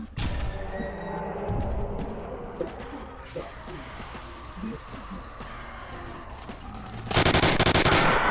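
Video game gun firing during a high-round zombies attempt: scattered sharp shots, then a loud dense burst of rapid fire near the end, with faint talk and background game sounds.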